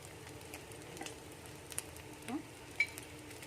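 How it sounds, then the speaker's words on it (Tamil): Chopped vegetables fry in oil in a pan for egg Schezwan fried rice, giving a faint, steady sizzle with a few light stirring clicks and taps. "இப்போ மறுபடியும் கொஞ்சம் எண்ணெய் ஊற்றி இந்த வெஜிடபிள்ஸ் எல்லாம் ஃப்ரை பண்ணிக்கலாம்."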